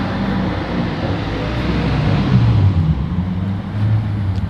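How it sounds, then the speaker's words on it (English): A 1998 Nissan Skyline R34 engine idles with a deep, steady rumble close by, holding a low droning tone with slight swells throughout. "Here's a 1998 Skyline R34."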